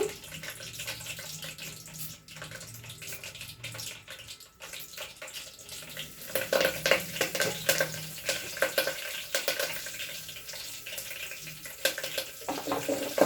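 Curry leaves go into hot tempering oil with dried red chillies while a small-fish curry is cooked, giving a steady hiss and crackle that grows noticeably louder and busier partway through.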